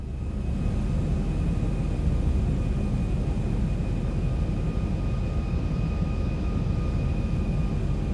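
A Zibo-modded airliner in the X-Plane 11 flight simulator on approach, a steady, loud engine and airflow roar that holds constant throughout with a faint tonal whine above it.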